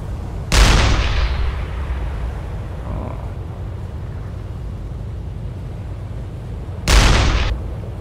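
An 8.8 cm submarine deck gun fires twice in the UBoat game, each shot a loud, close boom with a long rolling decay, several seconds apart over a low hum of sea and engine.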